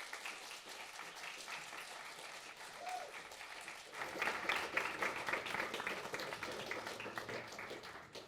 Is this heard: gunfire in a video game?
no